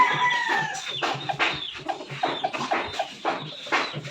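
Gamefowl fighting roosters at feeding time cluck repeatedly in rapid, overlapping bursts, nearby and fairly loud, with occasional sharper calls standing out.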